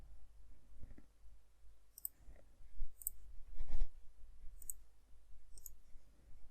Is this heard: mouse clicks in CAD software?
yes